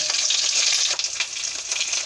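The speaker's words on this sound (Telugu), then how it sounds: "ఈ మునగాకు కూడా వేసి వేయించుకుందాం." Drumstick leaves fry in a hot tempering of oil and spices as they are stirred, producing a loud, close, steady sizzle with stirring noise and no voices.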